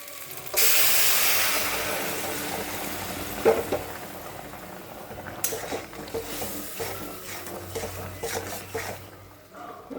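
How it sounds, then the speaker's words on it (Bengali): Water hisses and seethes in a wok of potatoes, aubergine and fried spices, a loud, steady steam roar that sets in abruptly and holds close, with a few clinks and stirring scrapes, fading slightly toward the end. "জলটা ফুটে আসুক।"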